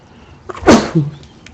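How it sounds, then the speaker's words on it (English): A single loud, close sneeze bursts out sharply, followed by a short voiced tail, with near silence before and after. "I'm gonna sneeze now, guys."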